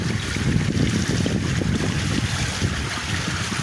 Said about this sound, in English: Love how fast this water is.